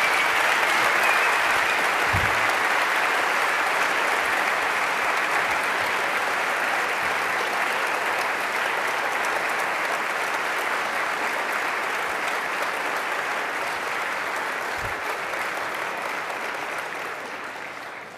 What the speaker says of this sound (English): Let's give both of them one more round of applause.